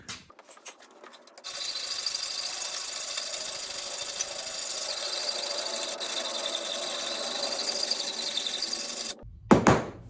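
A metal file rasps in long, steady back-and-forth strokes across the bevel of a handmade drop point knife, loud and close, with brief handling noises before and after.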